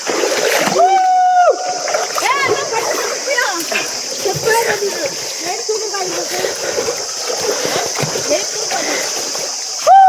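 People jump into deep water at a granite quarry, and the splashes come through loud and near over a constant wash of water and wind, with lively talking and shouting throughout.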